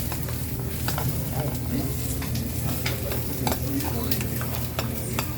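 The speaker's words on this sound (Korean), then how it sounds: "일단 처음에는 이렇게 섞어주세요." Okonomiyaki batter with egg and cabbage is mixed in a bowl, a continuous close scraping and stirring with soft clinks over a faint sizzling background.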